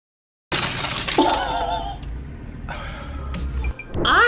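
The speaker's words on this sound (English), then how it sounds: "one punch, goodbye glass window" Car glass window shatters from a single punch during a road-rage confrontation: a sudden loud crash and crunch of breaking glass, followed by tinkling fragments and agitated voices shouting nearby.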